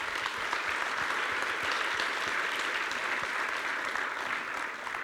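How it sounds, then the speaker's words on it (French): Conference keynote audience in Toulouse applauding, dense sustained clapping from a large crowd that holds steady for several seconds before easing slightly at the end. "On peut applaudir encore nos équipes."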